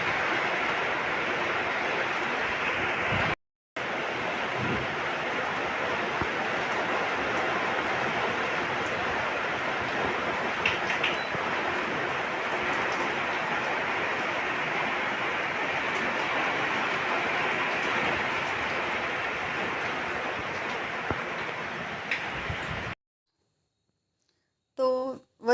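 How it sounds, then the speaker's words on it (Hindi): Heavy rain pours with gusting wind in a steady, loud, continuous rush that fills nearly the whole stretch, broken by a short gap early and a silent end. "झमाझम बारिश ज़ोर की आ गई है। हवा भी चल रही है,"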